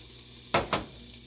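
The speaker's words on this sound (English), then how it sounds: "I let my butter cook down some." Butter sizzles in a pan as fajitas are started, a soft steady hiss broken by two quick louder scrapes or stirs close together.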